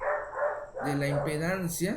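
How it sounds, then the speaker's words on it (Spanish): Several neighbourhood dogs bark in a busy residential area, the yaps overlapping and running under steady talk from a teacher's lecture. "Una disculpa por los ladridos, pero esa colonia es muy activa y hay muchos perritos."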